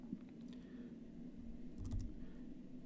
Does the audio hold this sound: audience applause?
no